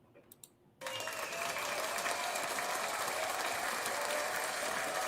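Applause sound effect from live-streaming software bursts in after a brief quiet moment, a dense, steady clapping crowd that continues loud and unbroken to the end.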